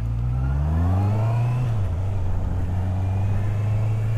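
A 2019 Honda CB650R inline-four motorcycle engine revs up and settles, a loud, close, steady droning tone that rises then drops to an even hum while riding, with no talk.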